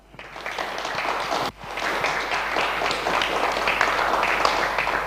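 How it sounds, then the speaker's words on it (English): A crowd applauds a second-place finisher at a racing league results announcement, steady dense clapping for about five seconds with a brief dip near the start. "a huge round of applause for Alex Sadler"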